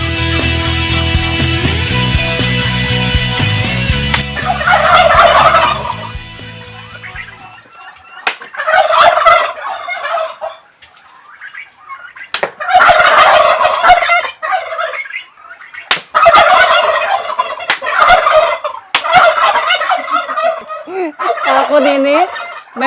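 A loud electronic chord gives way to a flock of turkeys gobbling in repeated rattling bursts, close by and overlapping.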